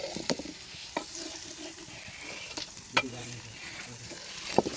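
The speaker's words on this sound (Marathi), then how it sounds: "तर आपली भाजी हलवून तोपर्यंत आपण भाकरी ही पलटूयात." Onion, green peas and cauliflower fry and sizzle in a pan while a spoon stirs them, a steady close sizzle broken by sharp scraping clacks of the utensil against the pan.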